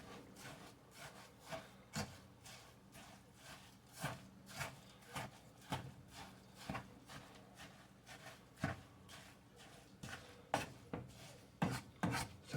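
Apple pie filling is stirred with sugar in a bowl, giving quiet, rhythmic scraping and rubbing strokes at a steady pace with no talking.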